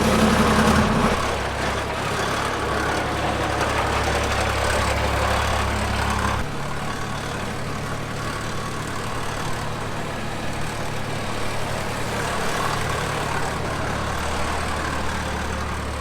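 A Tilmor hobby farm tractor, a modern take on the Allis-Chalmers G, runs steadily close by with a low, even engine drone that shifts slightly in tone after a few seconds.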